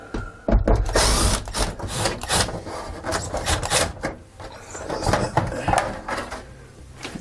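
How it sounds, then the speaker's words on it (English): A Phillips bit drives out the four corner screws of a MaxxFan Plus roof vent cover on a 2018 Jayco camper, with close whirring drill bursts and scraping, rattling handling in between. "Go ahead and remove these 4 corner screws here."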